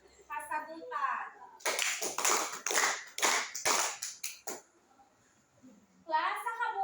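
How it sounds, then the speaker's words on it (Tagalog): A classroom of students clapping together in a rhythmic group cheer, several quick claps between short bursts of children's voices, fairly close and moderately loud, with speech before and after. "Bigyan natin ng 5 palakpak ang ikalawang grupo dahil sa kumpleto ang kanilang kasagutan."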